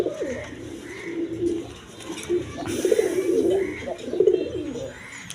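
A male pigeon coos repeatedly up close, soft throaty rolling calls in a steady rhythm, with faint background chatter and clatter.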